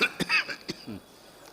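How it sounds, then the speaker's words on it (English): A man gives a few sharp, close coughs in quick succession, followed by a rough throat-clearing sound, at a memorial ceremony program. "I'm just getting a very bad cough"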